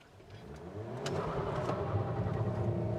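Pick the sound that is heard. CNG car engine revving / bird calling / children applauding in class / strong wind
CNG car engine revving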